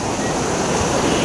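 Sea waves after a storm wash in as a steady, loud surf roar with wind noise buffeting the microphone, with no voices.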